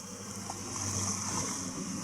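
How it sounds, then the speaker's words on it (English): A steady low engine drone on a sailboat at sea in rough water, mixed with wind and rushing water, constant and moderately loud. "I had to put on the engine because the wind died on us"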